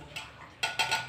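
A spoonful of pickle placed into a steel tiffin lunch box, with a few soft metallic clinks and scrapes of a spoon against the container, close and quiet, no talking.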